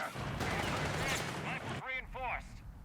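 Artillery and gunfire from a Company of Heroes 3 match: a dense, continuous barrage of blasts and shots for most of the span, then sharper separate reports near the end, with talk over it.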